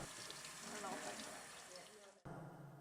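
Tap water running steadily over cauliflower sections being rinsed in a kitchen sink, a close, constant splashing rush that cuts off abruptly near the end and then resumes briefly.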